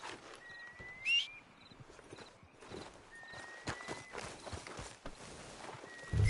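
Hooves clip-clop at a steady walking pace in a video game, with occasional faint high tones and a soft thump at the end.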